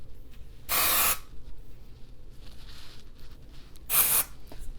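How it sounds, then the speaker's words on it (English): Two short bursts of Living Proof dry shampoo sprayed onto hair, each a loud close hiss of about half a second, separated by a quiet pause. "This is my Living Proof dry shampoo."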